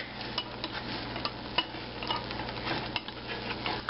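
Food sizzling in a pan while being flipped, a steady close frying hiss with small scrapes and utensil clicks over it.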